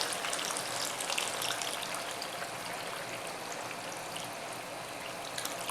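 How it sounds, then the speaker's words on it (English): Water poured into a pot of boiling turkey wings, a steady broadband rushing and splashing that holds for several seconds at an even level with no talk over it. "Then let's add some more water to it."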